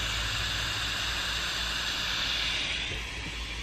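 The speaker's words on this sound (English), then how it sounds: "I just have a white noise app on my phone that I turn up and put like near his head" Steady broadband white noise played from a phone app set near a sleeping newborn, a constant even hiss with no breaks, fairly soft and continuous throughout.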